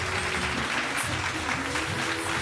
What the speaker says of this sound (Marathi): जोरदार टाळ्या संघासाठी वाजूया.